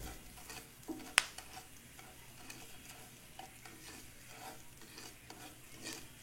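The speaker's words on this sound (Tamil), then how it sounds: "கொஞ்சம் மிளகும் சேர்த்து கசகசா பொன்னிறமா வர வரைக்கும் வறுத்தெடுங்க" Fennel seeds, poppy seeds and black pepper roasting in hot oil give a soft, steady sizzle with faint stirring scrapes and a single sharp utensil click early on, quiet and with no talking.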